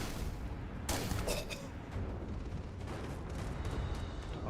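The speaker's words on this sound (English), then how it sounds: "I hear someone shooting a railgun." Railgun fire in the video game Starfield, a sharp burst of shots near one second followed by rumbling, crackling blasts over a dense, steady background din.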